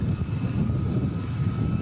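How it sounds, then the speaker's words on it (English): A military helicopter hovering and backing up over an English crop circle, a steady loud rotor and engine roar heard from a distance with wind buffeting, continuous and unbroken. "But the helicopter begins to back up."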